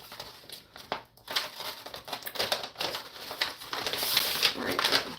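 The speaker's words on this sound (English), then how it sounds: "I'm literally using my fabric cutting scissors for this" Fabric-cutting scissors slice through crinkly wrapping paper while presents are wrapped, giving close, continuous rustling and crackling with repeated snipping strokes.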